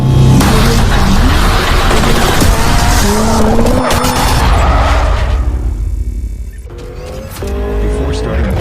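A Porsche Cayenne Turbo GT roars loudly and close, its exhaust rasping with surging revs and squealing tires before easing briefly and picking up again.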